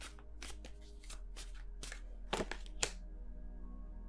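Tarot cards are shuffled in a quiet room, with a run of crisp riffling and flicking bursts followed by a couple of sharper snaps.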